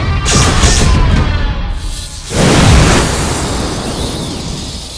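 A booming explosion effect in a TV show, a loud crashing blast that fades, followed by a second heavy burst that rumbles and decays slowly.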